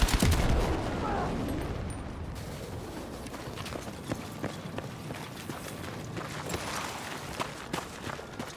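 Machine gun fire in the Battlefield 6 video game, a battle scene with bursts of rapid shots and sharp cracks over a dense roar of combat noise, fairly loud throughout.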